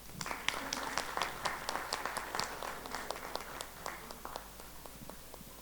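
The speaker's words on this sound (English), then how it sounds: "Round of applause for Raosaheb." Clapping crowd applauds Raosaheb Ghuge at an entrepreneurs' gathering in Pune, dense steady hand claps throughout, near and fairly loud, tapering slightly toward the end.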